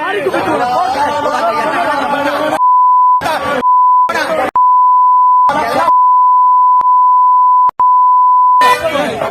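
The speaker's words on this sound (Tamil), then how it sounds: "அந்த வீடியோவை ஒரு பீப் கலந்து போடுறோம்" Loud, steady censor beeps cut in repeatedly over heated shouting between two groups, with several long tones and a few brief blips set between stretches of angry voices.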